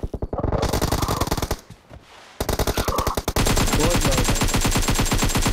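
Rapid automatic gunfire in the video game PUBG: loud, dense bursts of shots, with a brief pause before a sustained fast stream of fire. A short spoken remark is heard.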